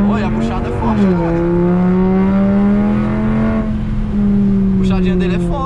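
A Volkswagen Jetta five-cylinder with a straight-pipe exhaust revs loudly nearby, its engine tone rising, dipping and holding steady while people talk over it.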